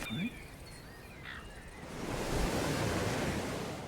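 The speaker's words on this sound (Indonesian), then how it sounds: "menikmati terjangan ombak" Surf breaking on a beach, a steady broadband wash that swells louder in the second half as a wave rolls in, with a faint voice near the start.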